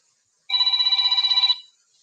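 A telephone rings once for an incoming call to a live call-in show, a single bright warbling trill lasting about a second, clear and alone.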